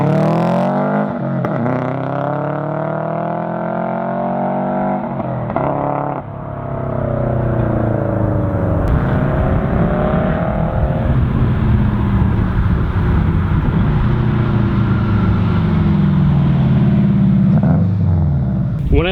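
A Subaru WRX wagon engine revs repeatedly, its pitch swelling and falling in several long sweeps. The rumble is loud and close, and a brief dip comes midway before the revving picks up again.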